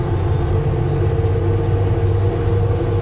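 A truck engine drones steadily with low rumbling harmonics while shifting into fifth gear on a slow descent of the Smasher, a continuous close mechanical hum with no voices.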